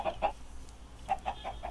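Chicks clucking in a survival video game, a few short soft peeping clucks in two small bursts, quiet and close with no talking.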